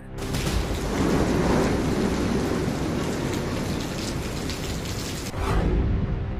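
Heavy rain pouring ahead of Cyclone Yaas on the Bengal–Odisha coast, a dense, loud continuous roar of downpour with low rumbling undertones, briefly dipping then surging again near the end.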